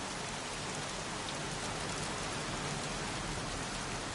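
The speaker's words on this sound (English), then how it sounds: "Jeez, won't this rain ever let up?" Heavy rain falls in the Heavy Rain video game, a dense, steady hiss of downpour that stays loud and unbroken throughout with no voices.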